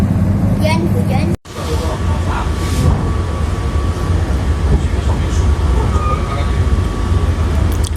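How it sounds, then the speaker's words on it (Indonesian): The KA Jenggala commuter train pulls out of Surabaya Pasar Turi station toward Mojokerto on a rainy afternoon, a steady rumble and rolling clatter of the carriages close by, while someone talks over it. "Kereta api komuter lain Jenggala diberangkatkan kembali dari stasiun Surabaya Pasar Turi menuju Mojokerto."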